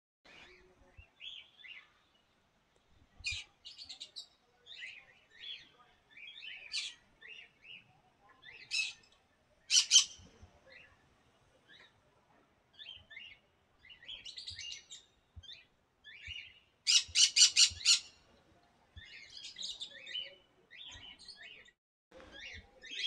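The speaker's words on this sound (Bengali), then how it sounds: "সেই পাখির কলতান আপনারা শুনতে পাচ্ছেন।" Songbirds kept in an aviary at a resort with a water park in Arambagh, Hooghly, chirping and tweeting in short bursts and trills, some near and loud, others softer, with brief quiet gaps between calls.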